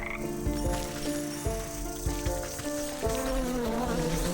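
Frogs in the video game Wytchwood croak in low rattling bursts, several irregular ratchet-like calls over a soft sustained musical background.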